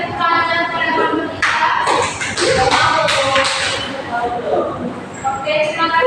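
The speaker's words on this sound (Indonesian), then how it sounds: "Oke, berikan tepuk tangan kepada kelompok" A classroom of students claps for a presenting group, a burst of close, scattered hand claps and taps rising and fading over a few seconds, with talking and shuffling around it.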